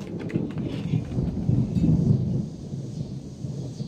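Heavy thunder rolls on through a rainstorm outdoors, a deep sustained rumble that swells in the middle and fades, loud and close, with steady rain hiss on top and no talking.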